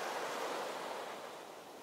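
Steady broadband wash of beach surf in ACE Academy at sunset, soft, distant and continuous with a faint airy hiss, no voices.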